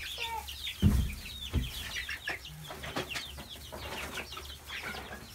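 Chickens cluck and squawk in a coop, with overlapping calls from several birds, a couple of louder bursts and some wing flaps, close and busy throughout.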